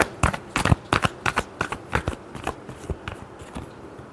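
Tarot cards being shuffled in a quick series of crisp riffling flicks and slaps, close and fairly loud, with rhythmic bursts repeating steadily and no talking.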